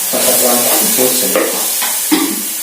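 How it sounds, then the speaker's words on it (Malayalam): Onions sizzle and fry in a pan until browned, a steady loud crackling hiss with occasional stirring scrapes, close up and without talk. "നമ്മുടെ ഉള്ളിയും സവാളയൊക്കെ നന്നായിട്ട് മൂത്തിട്ടുണ്ട്, ഒരു ബ്രൗൺ നിറമായിട്ടുണ്ട്."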